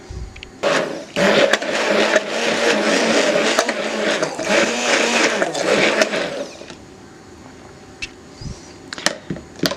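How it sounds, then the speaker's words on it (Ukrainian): A blender whirs steadily for several seconds with a buzzing motor, churning a hot chocolate mixture, then cuts off, leaving a few faint clicks and knocks. "і гарно пробиваю блендером"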